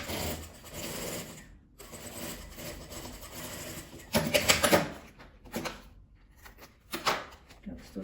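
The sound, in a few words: sewing machine stitching plastic bias binding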